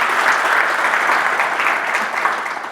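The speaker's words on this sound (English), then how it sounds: "Give Dan a round of applause." An audience claps for a presenter at a home-service business event: dense, steady applause held at full strength for the whole stretch, with no voices rising above it.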